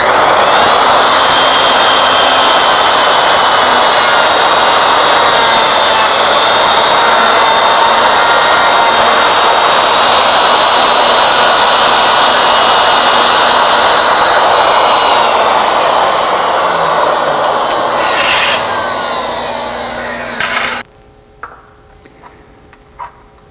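A router milling holes in a Legacy ornamental mill makes a loud, steady high-pitched whine that holds for about twenty seconds, then cuts off abruptly, leaving a few faint clicks and room hum.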